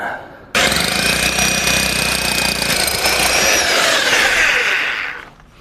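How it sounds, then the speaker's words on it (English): A loud power drill with a 12mm bit grinds steadily through a metal plate for several seconds, its high whine constant before winding down at the end. "It was a 10mm drill, it's not enough, so now I'm trying 12 and a bigger one."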